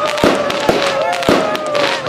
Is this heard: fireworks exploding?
yes